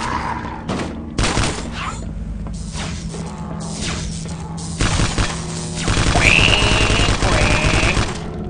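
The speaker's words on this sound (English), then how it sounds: "That gun entertains me." Rapid, loud gunfire from a weapon in the video game Vivisector rattles on without letup in dense bursts, with heavy thuds and crashing impacts mixed into the barrage.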